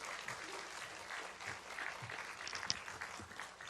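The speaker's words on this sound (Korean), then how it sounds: "우리 목사님을 박수로 함께 모시도록 하겠습니다" A church congregation at a Korean Sunday worship service gives steady, continuous applause that sounds somewhat distant and soft throughout.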